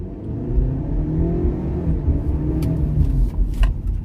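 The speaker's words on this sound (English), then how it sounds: "I'm going to launch again up to 30 and we're going to brake." A 2021 Ford Explorer XLT accelerates hard to about 30 mph, its turbocharged engine building into a loud, close, rising rumble heard from inside the cabin, with a few faint clicks near the end.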